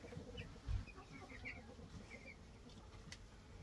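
Meat chickens and meat ducks together in a pen: faint scattered clucks and soft bird calls over a quiet outdoor background, with one brief low thump.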